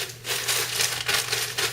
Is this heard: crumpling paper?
yes